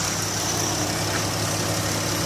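A 2016 Dodge Caravan SE minivan's V6 engine idles steadily at close range, a constant low hum with a faint whine above it and no voices.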